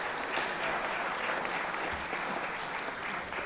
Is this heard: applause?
yes